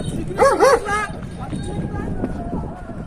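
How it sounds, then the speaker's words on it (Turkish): Dogs bark and yip around a football match between Golbasispor and Polatlispor, a short burst of barks standing out briefly over steady crowd noise and nearby voices. "Yakışıklara havlıyor köpekler"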